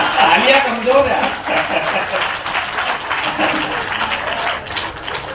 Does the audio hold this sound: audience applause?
yes